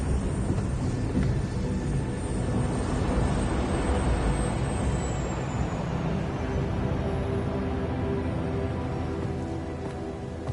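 Steady airplane flight drone in the game 007 First Light, a continuous broad engine roar with a faint high whine drifting across, even and unbroken throughout with no talking.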